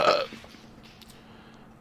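A single loud belch bursts out at the very start, short and raspy, then fades into quiet room tone.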